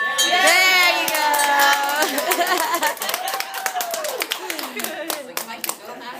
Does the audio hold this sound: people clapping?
yes